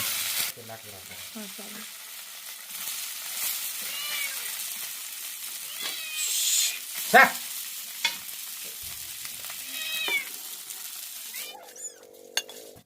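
Fish fries in hot oil in a village kitchen, with a continuous close sizzle and occasional utensil knocks and scrapes as pieces are turned.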